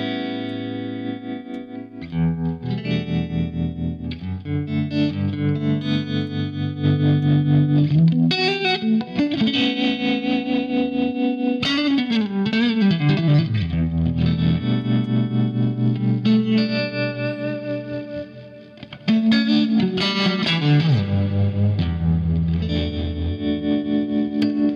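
Electric guitar played through a Fractal Axe-FX III rock preset with distortion, chorus and echo effects, mixing sustained chords and bending lead lines, loud and continuous with no talking.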